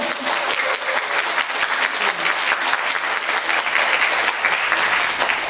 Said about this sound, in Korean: 이럴 때 박수 치시면